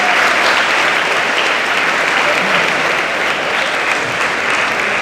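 Loud, sustained applause from a large audience at a high school Veterans Day service, a steady dense wash of clapping that fills the space without pause.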